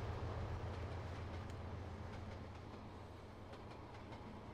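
A freight train in the Trainz Simulator 2 game rolls steadily past with a low rumble and faint rhythmic clatter of wagons, continuous and fairly loud, no talk.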